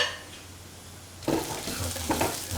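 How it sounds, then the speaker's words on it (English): A spoon stirs an okra and ground cashew nut stew in a pot, with a soft sizzle and a few clinks of utensil against metal after a quiet opening second, close and moderately loud with no talk. "Salt and mix thoroughly"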